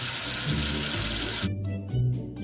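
Running water rinsing soap off a cartoon letter, a loud splashing faucet stream that cuts off abruptly after about a second and a half, followed by soft musical tones.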